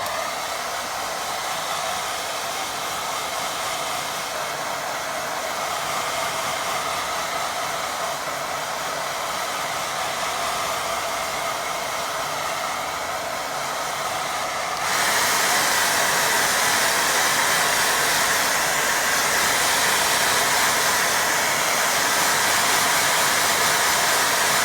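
A hair dryer blows steadily on a watercolour painting, a constant loud whooshing hiss that jumps to a higher, stronger setting partway through, with no talking.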